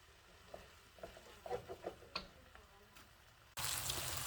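Chicken and vegetable fried rice crackling and being stirred in a pan, with soft scattered sizzles and clicks, ending in a sudden louder burst of hissing frying.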